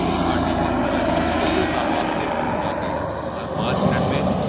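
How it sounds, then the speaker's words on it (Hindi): A steady, loud engine roar of a helicopter landing in a Himalayan valley fills the air, droning continuously without pause and staying close and powerful throughout. "एक हेलीकॉप्टर यहाँ घाटी में लैंड करता है"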